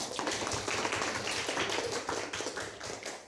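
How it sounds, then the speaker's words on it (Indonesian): Classroom applause for a student during a primary-school lesson on reading and writing whole numbers, a dense steady patter of many clapping hands held at an even level. "Tepuk tangan untuk Haikal."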